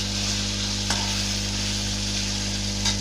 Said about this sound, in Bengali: মাছগুলো আমি বেশি ভাজবো না একদম হালকা করে ভেজে নেব